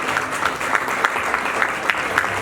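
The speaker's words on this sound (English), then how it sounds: "Applaudissons pour ces enseignants" Audience applause for teachers at a school's 20th anniversary talk show, a steady dense patter of clapping with periodic sharper claps, moderately loud and continuous throughout.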